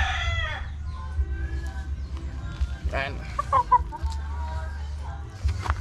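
A rooster crows amid a flock of farm chickens kept by a backyard poultry raiser on vaccination day, with clucking and other fowl noises over a steady low background hum; people talk nearby.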